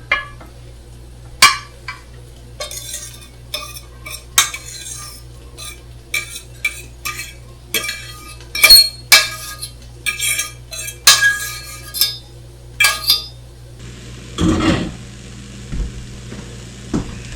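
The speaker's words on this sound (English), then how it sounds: "my meat is cooked, I will add it in my pan." Cooked beef added to a pan and stirred with a utensil, a long run of sharp metallic clinks and scrapes against the pan over a low hum, ending in a softer shuffling sizzle.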